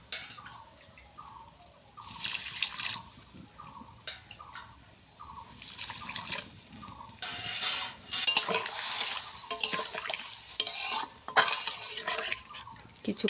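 A utensil stirs a raw mango and bata fish sour curry in a pan, making a run of regular metal scrapes and clinks close by. The clatter grows louder and more irregular toward the end.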